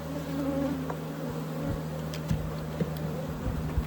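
Honey bees hum around an open hive, a steady droning buzz close by with a few brief clicks and knocks over it.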